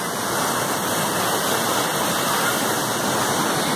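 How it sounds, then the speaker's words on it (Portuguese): The Capelinha waterfall in Brazil roars steadily, a dense, loud rush of falling water filling the whole stretch without a break. "O barulho da cachoeira."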